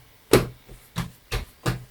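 Risen bread dough gets knocked back after its second proof, four dull, heavy thumps struck about a third of a second apart, close and punchy, with a softer knock between the first two.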